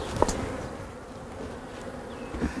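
Honey bees at an organic beekeeper's hive, where the honey supers are being cleared of bees for extraction, make a continuous close buzzing hum with a few brief louder passes.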